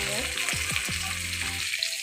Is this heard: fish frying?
yes